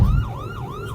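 A brief burst of ambulance siren, two or three quick swooping wails, sounds in city traffic over a low engine rumble.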